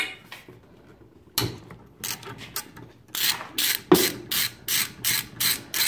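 A socket wrench ratchet clicks while working bolts on a Predator 212 engine, with a few scattered clicks first and then a close, regular series of rapid ratcheting bursts.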